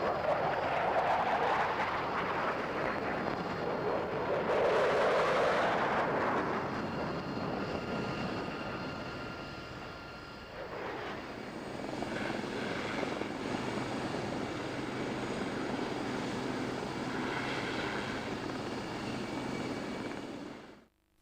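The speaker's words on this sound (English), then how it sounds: "Finally, an RAF Tornado F3 flew by accompanying a Sukhoi Su-27." An RAF Tornado F3 and a Sukhoi Su-27 fly past at a 1999 British airshow, a loud jet roar peaking early then easing, followed by a second rising, rumbling pass that fades abruptly at the end.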